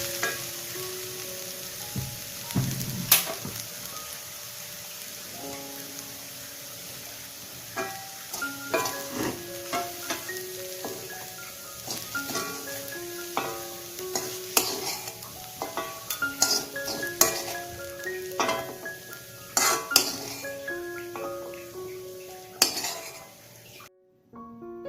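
Spinach thoran being stirred in a pan on the stove, with a soft continuous sizzle under repeated metallic clinks and scrapes of a spoon against the pan, irregular and close, ending in near silence.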